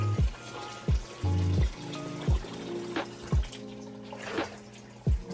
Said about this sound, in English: You can add more water.